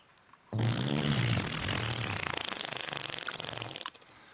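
A long, loud, close fart lasts about three seconds, starting abruptly with a low rasping buzz and breaking into sputtering pulses before it cuts off.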